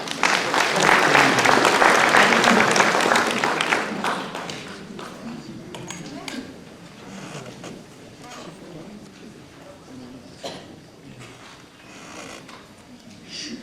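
Audience applause at a concert by a community band, loud dense clapping that tapers after a few seconds into sparse claps and low room murmur.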